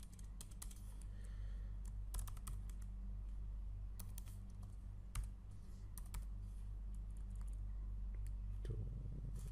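Code is typed on a computer keyboard, a fast, irregular run of close, crisp key clicks over a steady low electrical hum, with no talking.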